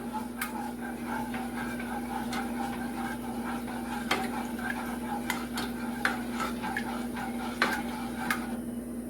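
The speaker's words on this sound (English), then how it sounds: "we're going to mix this until it combines" A spoon works through sticky homemade granola bar mixture in a pot, scraping steadily with intermittent metallic clicks and knocks against the pot, close up and with no talking.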